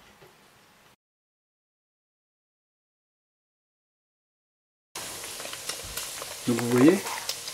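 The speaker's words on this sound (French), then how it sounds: "là la graisse elle est en train de fondre" Diced tallow fat melts, sizzling and crackling in a hot pan after a long silence, with a brief stirring scrape near the end.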